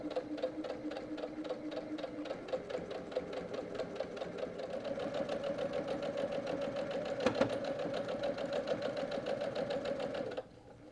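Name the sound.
sewing machine top stitching quilted towel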